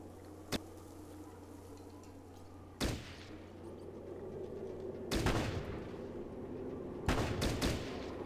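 Gunfire from a firefight in the video game Fallout Tactics: Brotherhood of Steel. Sharp, widely spaced shots and short bursts land over a steady low background hum, with no talking.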